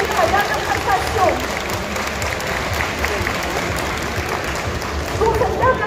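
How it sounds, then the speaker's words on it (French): Audience applause at a cosplay contest in Bordeaux, a steady wash of clapping from a large crowd sustained throughout, with faint voices mixed in. "Je vous demande encore d'en faire une dernière fois de grands applaudissements"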